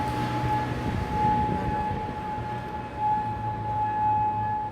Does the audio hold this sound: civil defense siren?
yes